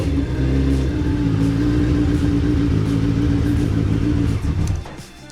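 A Suzuki Hayabusa motorcycle engine, mounted in a Peugeot 106 being swapped, runs at a steady, loud idle with a deep droning hum, then cuts off near the end leaving a faint fading rumble.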